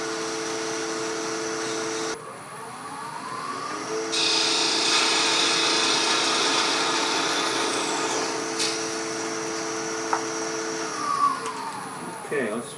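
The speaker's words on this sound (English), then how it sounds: "So let's just sand off the front." Sanding on a wood lathe shapes the round face of a wooden nativity figure, a steady motor whir under a louder rising hiss of abrasive on spinning wood.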